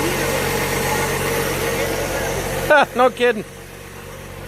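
A 1962 Ford Falcon engine, started for the first time after 17 years sitting in a field, idles with a steady, even rumble. A person briefly speaks over it partway through.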